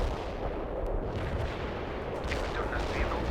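Artillery barrage firing in World in Conflict, a steady rumble of distant heavy gunfire and booms layered into a dense, continuous roar with no voices.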